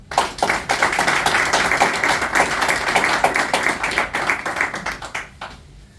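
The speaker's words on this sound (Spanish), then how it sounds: "quiero también que brinquéis un fuerte aplauso tanto a Jax como a Salvador La Roca" An audience applauding, a dense, steady burst of many hands clapping close by that holds for several seconds and then tapers off.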